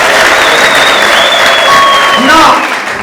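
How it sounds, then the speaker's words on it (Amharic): Congregation at an Ethiopian church service applauding in praise of the Lord, a short wash of clapping and crowd noise with vocal sounds and sliding tones rising over it, fading near the end. "እስቲ አጨብጭቡ ለጌታ አክብሩ"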